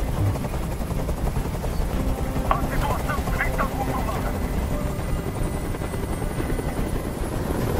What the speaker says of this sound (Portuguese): Esse helicóptero tem que sair daqui agora!